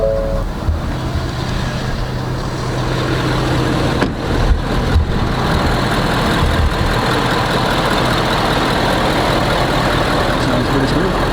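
A 2017 Ford Powerstroke diesel engine, freshly filled with Amsoil diesel oil after an oil change, runs at a steady idle close by, with a continuous even rumble and no revving.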